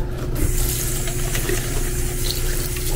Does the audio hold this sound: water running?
yes